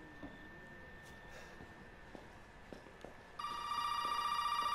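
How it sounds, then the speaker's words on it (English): A telephone rings inside the horror game Resident Evil 7. A quiet, murky ambience comes first, then a loud, steady electronic ring cuts in abruptly and continues to the end. "The phone?"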